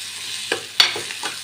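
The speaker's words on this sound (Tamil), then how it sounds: "லைட்டாக கிளறி விட்டுக்கலாம்." A short burst of stirring as cluster beans fry in a pan, with a soft sizzle under two or three close spatula scrapes, the middle one loudest.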